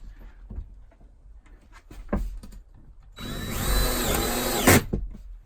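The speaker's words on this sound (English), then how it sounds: "We are attaching these with self-tapping sheet metal screws" A power driver sinks self-tapping sheet metal screws into wooden furring strips inside a camper van, opening with scattered taps and knocks before a steady high whine about two seconds long that ends in a sharp bind, close by.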